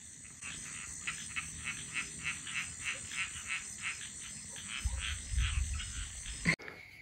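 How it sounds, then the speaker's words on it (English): A chorus of frogs in Balinese rice fields croaks in a steady pulsing rhythm, with a continuous high insect drone over an open outdoor setting. "the sound is frogs in the Balinese rice"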